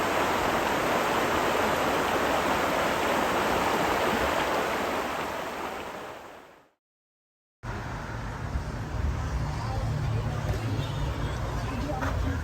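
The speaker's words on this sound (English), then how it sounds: "Sitting out here watching the water go by." Steady broadband rush of a flowing stream, constant and close, with a brief silent gap partway through before the flow resumes.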